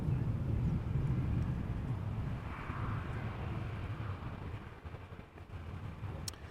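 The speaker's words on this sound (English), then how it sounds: "Next up is a Transavia 737-800 arriving from Ibiza" Transavia Boeing 737-800 airliner arriving from Ibiza at Amsterdam Schiphol in crosswind, a steady broad jet engine roar that stays fairly loud and slowly eases, heard alone with wind-like rumble.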